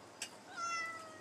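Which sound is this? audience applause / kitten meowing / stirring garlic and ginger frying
kitten meowing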